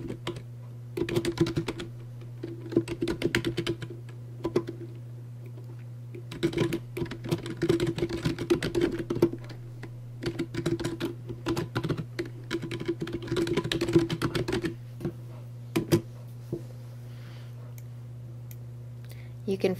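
Keystrokes on a computer keyboard as a signature is typed into Outlook 2007, coming in quick bursts of close, crisp clicks with short pauses between, over a steady low hum.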